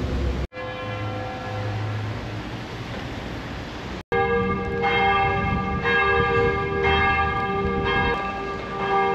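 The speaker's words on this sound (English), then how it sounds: "I always thought that when the bells rang, that would mean that the church was calling people to go to mass." Church bells peal steadily and loudly outdoors during a morning walk, with layered ringing tones that cut out briefly twice before resuming in overlapping strikes.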